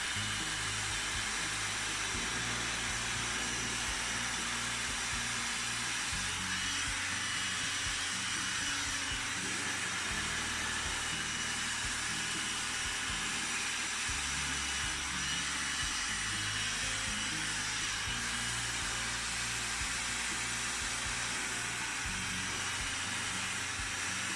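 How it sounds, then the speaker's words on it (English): A Dyson Supersonic hair dryer blows steadily while styling hair with a brush, giving a continuous close airy hiss with a low fluctuating rumble underneath, uninterrupted throughout. "I'm going to bring the brush underneath and then blow dry this way."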